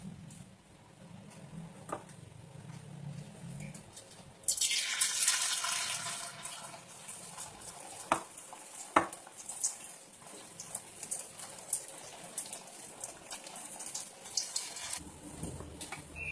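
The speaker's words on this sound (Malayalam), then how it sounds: "നമ്മൾ കോളിഫ്ലവർ പൊരിക്കാൻ വേണ്ടി എണ്ണ ചൂടാക്കി വെച്ചിട്ടുണ്ട്" A sudden loud sizzle erupts as cauliflower for gobi manchurian hits hot oil, then settles into a softer, steady crackling fry with occasional pops.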